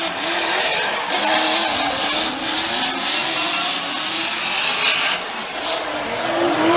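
At a Formula Drift round in Atlanta, a drift car slides through a corner with loud, sustained tire squeal over the roaring engine, continuous and close for several seconds.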